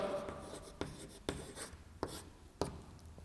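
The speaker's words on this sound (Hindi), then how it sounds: "मैं इसकी पूरी जानकारी अब लिखता हूँ" A pen scratches across paper in close, quiet strokes with a few sharper taps between them, as someone writes out a formal complaint letter in Hindi by hand.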